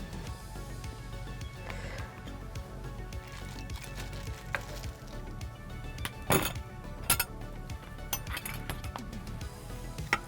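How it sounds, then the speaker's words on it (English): A large spoon scrapes and clinks against a crockpot while scooping vegetables out of a beef roast, giving scattered metallic taps and a few sharp clanks over quiet kitchen background. "I'm just going to use a little bit bigger spoon here to grab out some of my veggies in here as well"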